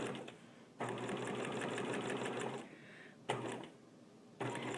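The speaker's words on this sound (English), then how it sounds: "So we're stitching and quilting all at the same time." A sewing machine stitching and quilting, running in rapid mechanical bursts separated by brief pauses, steady and close.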